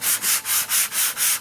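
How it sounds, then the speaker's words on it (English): A sanding sponge scuffs the glaze off a fiberglass speaker pod in steady back-and-forth strokes, about six rhythmic rasping passes, close and loud with no talking. "I got me a sanding sponge. I'm just finna knock this glaze and put it down."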